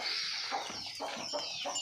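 Chickens at a poultry farm cluck and murmur steadily, a dense, continuous flock chatter with a few louder calls rising out of it, close and fairly loud throughout.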